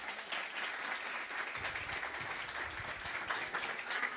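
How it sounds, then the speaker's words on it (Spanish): An audience at a startup speaker event gives a steady round of applause, soft and somewhat distant, continuous dense clapping with a low rumble joining partway through. "démosle un fuertísimo aplauso al señor Don Campos de Moya"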